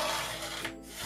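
A paper trimmer blade slicing through very thick cardstock, a brief close scraping rub lasting about a second with no voices.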